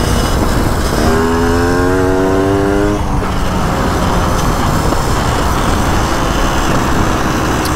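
A trial motorcycle in New Zealand runs loudly and close throughout, with a steady engine roar and a rising tonal whine during the first seconds.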